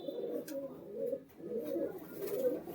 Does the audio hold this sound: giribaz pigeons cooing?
yes